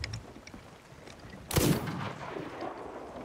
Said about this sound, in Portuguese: Tiraço, hein? Os dois tiros.